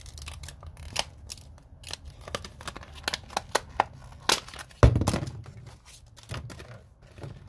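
Scissors snip and crunch through tough plastic tool packaging up close, a run of sharp irregular cuts and crinkles with one heavier crunch partway through.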